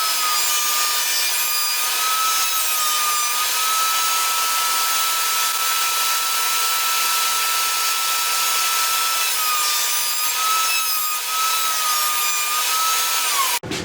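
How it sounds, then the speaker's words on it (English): A router fitted with a roundover bit shapes and rounds the edges of a knife handle blank, giving a steady, loud, high-pitched whine with a rough cutting hiss throughout and no voices. "I'm going to use a roundover bit, and it's going to true it up, and it's also going to round over the edges"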